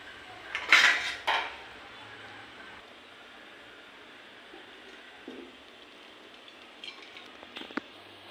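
Cooked amaranth greens are strained from a pot: a couple of loud metal clanks and clatters come near the start, then a faint rustling quiet with a few small knocks.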